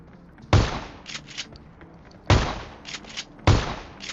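Three sharp, booming shotgun blasts fire in a video game, widely spaced and each followed by a short decaying tail, with faint clicks and game noise between shots.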